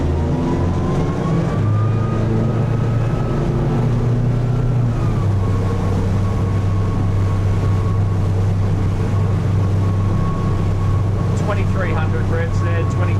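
Tasman 80 boat running at wide open throttle in big waves in Bass Strait, Australia, with a loud, steady engine drone, rushing water and wind buffeting throughout, and voices talking briefly over it.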